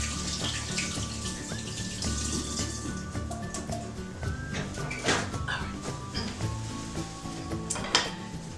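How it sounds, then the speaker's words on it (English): A kitchen sink tap runs steadily while hands are washed, a faint, continuous wash of water with scattered clinks and a dog barking in the background. "Go over here and sink and wash my hands off here"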